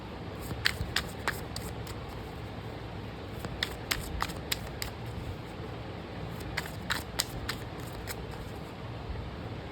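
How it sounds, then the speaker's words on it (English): Rapid crisp riffling of a deck of tarot cards in two quick bursts over a steady low background rumble, fairly close and fairly quiet. "we'll shuffle and we'll bring out a bottom of the deck for this"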